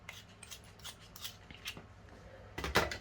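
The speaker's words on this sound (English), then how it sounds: "I'm going to sharpen my pencil." Close, quiet scraping bursts from sharpening a Ticonderoga HB wooden pencil: several short rasping strokes in uneven rhythm, ending with a louder grinding scrape.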